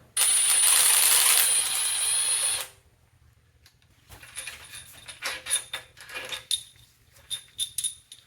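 A sharp, screeching metallic squeal lasting a couple of seconds as a rusty cylinder head bolt breaks loose on a 6G72 engine, then quieter clicks, clanks and scraping of tools.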